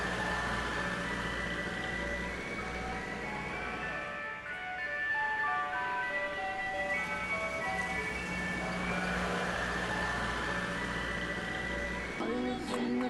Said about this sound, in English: I brought her home in an ice cream truck